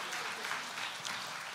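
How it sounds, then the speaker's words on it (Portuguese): Church congregation giving a round of applause in honour of God during a sermon, a brief, even wash of many hands clapping, moderately distant and steady throughout. "A Ele o nosso aplauso de honra."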